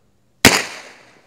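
A small survival flare fires with one sharp, loud pop, a sudden crack followed by a hissing tail that fades over about a second, close by and alone.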